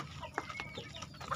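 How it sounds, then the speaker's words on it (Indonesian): Chickens at a poultry farm cluck during feeding time, with short, close calls scattered over a low background of farm noise. No one speaks. "Ayam diberikan makan"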